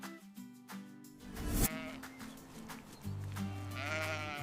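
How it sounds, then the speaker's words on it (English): A sheep bleats close and clear, a few wavering calls spread over the span with brief gaps between them. "Sheep have soft, fluffy wool."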